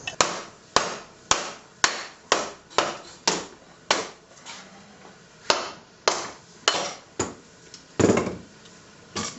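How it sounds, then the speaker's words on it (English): Repeated sharp wooden knocks from a hammer striking a froe to split a log, about a dozen blows at a steady, slightly uneven rhythm, close and fairly loud. "you're hammering it into the log"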